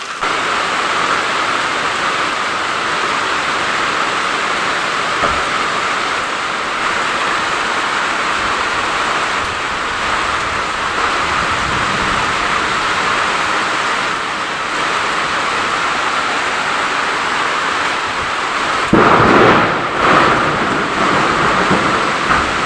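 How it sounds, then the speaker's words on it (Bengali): Heavy rain pours down in a loud, continuous roar that stays dense and even, swelling briefly into a stronger burst near the end, with no voices. "কি পরিমাণে বৃষ্টি হচ্ছে তাহলে।"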